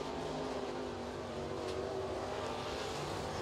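A crate race car runs a qualifying lap at Crossville Speedway, its engine a steady, moderately distant roar holding pitch through the whole stretch, with no voices.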